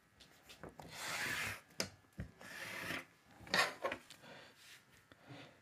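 Tailor's chalk or marker scraping across kameez fabric while a half-inch joint margin is drawn, giving close, dry rasping strokes in several bursts with short pauses between them.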